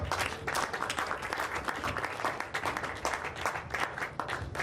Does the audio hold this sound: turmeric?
no